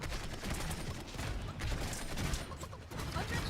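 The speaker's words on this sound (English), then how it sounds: "Looks like we're still under fire." Gunfire from the Realm Royale video game rattles in steady, fairly distant bursts, with sustained crackling shots under a quiet backdrop of game noise.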